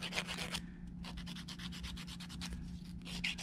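A nail file scrapes acrylic nails in quick, even back-and-forth strokes, close and fairly quiet over a low steady hum.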